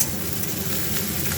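Onion frying in oil for a prawn curry, a dense, steady sizzle up close, loud and unbroken over a brief moment, with no voices.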